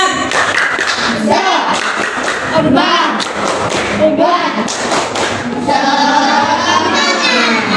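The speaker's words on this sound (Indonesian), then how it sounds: "Tepuk semangat." Children in an Indonesian primary classroom perform a rhythmic spirit clap, tepuk semangat, with close, loud patterned claps and thumps mixed with their chanting voices.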